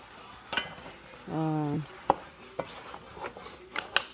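Pork and onions being stirred in a pot for sinigang, with scattered scraping and clinking of a utensil against the pot, plus a short buzzing tone partway through and some faint sizzle.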